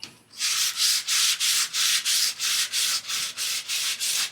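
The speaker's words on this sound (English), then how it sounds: "we'll hit it back with our sandpaper again and see what it looks like" Sandpaper scrubs back and forth over body work on a Datsun 280Z, about fifteen even, rhythmic rasping strokes, close and loud, with no one speaking.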